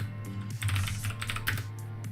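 Steady, rapid keystrokes on a PLATO terminal keyboard while entering TUTOR code, a continuous run of close clicks over a low electrical hum.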